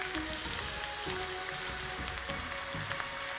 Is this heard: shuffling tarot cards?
no